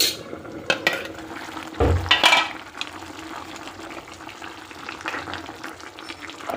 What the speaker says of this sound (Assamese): এতিয়া মই মছলা দিম মছলা দি কেনে ভুনি নিছোঁ